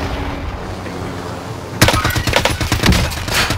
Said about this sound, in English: Enemy sentry gun.